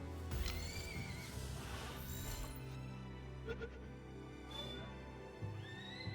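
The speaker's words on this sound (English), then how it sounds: "All you hear is the horse whinnying over and over and over again." A horse in the game Palworld whinnies repeatedly, loud, shrill neighs rising and falling several times alongside hoof clip-clops and game sounds.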